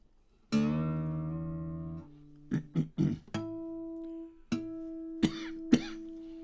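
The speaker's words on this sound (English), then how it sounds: "So I still have this residual cough" A few short, rough coughs break out between sustained tones, with the sound of a throat being cleared; close and moderately loud.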